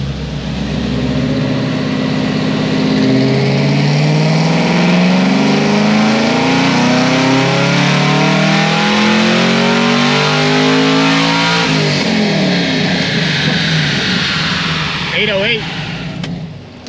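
A supercharged fifth-generation Camaro ZL1 running 49% ethanol on 17 pounds of boost roars through a sustained rising pull on a dyno, loud and close, then drops off and fades near the end.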